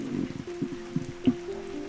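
Monsoon rain falls on a June day at Gilsangsa temple, heard as sparse, soft drips and taps over a low steady hum. No one speaks.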